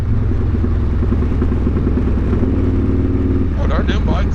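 Harley-Davidson motorcycles rumble loudly and continuously on the Foothills Parkway, a close steady engine drone with a brief rise in higher mechanical noise near the end.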